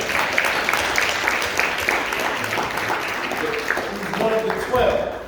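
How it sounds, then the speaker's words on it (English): A conference crowd applauds with steady, dense clapping, with voices and cheers mixed in, the applause lasting throughout. "Let's give that man a round of applause."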